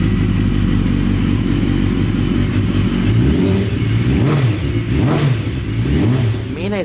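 A BMW HP4 motorcycle fitted with an aftermarket exhaust rumbles loudly up close, then gives several sharp throttle blips that rise and fall in quick succession.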